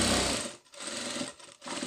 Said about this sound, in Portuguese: Vou vir costurando.